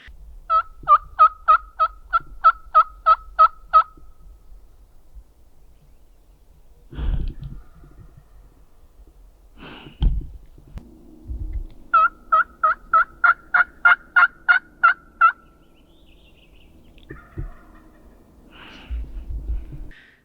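Wild turkeys gobble in a field on private land in Oregon during spring, two long rapid rattling gobble bursts separated by softer scattered calls and thumps, clear against an otherwise quiet background, a few hundred yards off.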